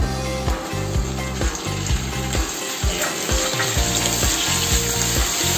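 Chicken pieces frying in a pan for ginisang repolyo (sautéed cabbage), with onion already in; a steady sizzle under rhythmic low thumping music, no talk.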